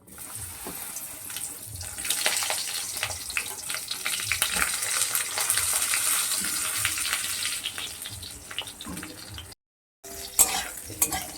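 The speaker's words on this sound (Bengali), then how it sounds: "মাছ ভাজার যে তেলটা ছিল তাতে আমি লম্বা লম্বা বেগুন কেটে নিয়েছিলাম সেগুলোকে ভেজে নেবো" Long eggplant slices sizzle in oil left from frying fish, a steady bubbling hiss that swells and stays loud and close, with a short silent break before crackling resumes.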